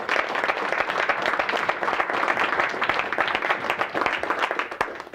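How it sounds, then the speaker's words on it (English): A large organizational audience at a real estate sales event breaks into steady, dense applause, loud and close throughout with many overlapping claps and no talking. "give yourselves a round of applause"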